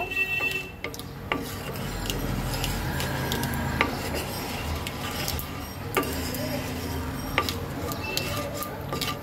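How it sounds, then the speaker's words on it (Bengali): Turmeric fries in hot oil in a pan for raw mango chutney, heard as continuous scraping and stirring against the pan over a low sizzle, with occasional sharp utensil clicks close by. "আমি এই তেলের মধ্যে দিয়ে দেব একটু সামান্য হলুদ। সবকিছু একটু সুন্দর করে 2-3 মিনিট ভেজে নেব।"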